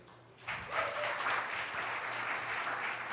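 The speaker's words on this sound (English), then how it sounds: "One more round of applause for all of you for showing up today." Audience applause at a digital creators retreat, a steady crowd clapping that starts abruptly after a brief quiet moment and holds at an even, moderately loud level throughout.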